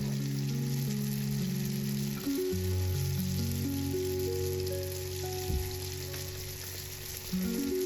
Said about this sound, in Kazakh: майымызды қыздырып, әрбір пирожкиімізді сала отыра пісіріп аламыз